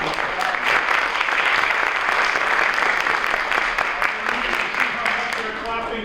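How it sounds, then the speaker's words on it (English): An elementary school audience at a young writers' evening bursts into sustained applause, dense and loud clapping from many people that fills the room without a break. "They're clapping."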